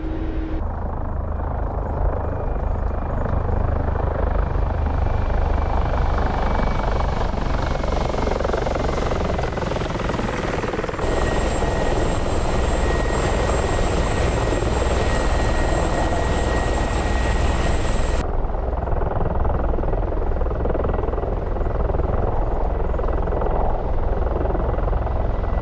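A Mi-24P Hind attack helicopter in the DCS flight simulator, a loud, unbroken rotor and turbine roar with steady whining tones that shift midway, heard from inside the cockpit with no talking.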